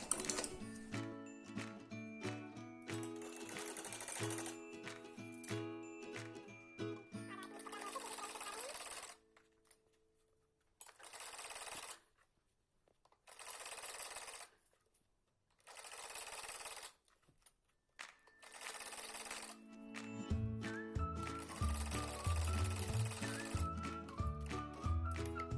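A domestic sewing machine runs straight stitching along the folded half-inch hem of a salwar cuff backed with buckram, in bursts of rapid mechanical clatter separated by pauses, loud and close throughout.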